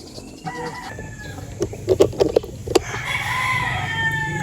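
A gamefowl rooster crows close by, its call rising in a few loud bursts alongside clucking from other fowl, with a steady farmyard murmur underneath.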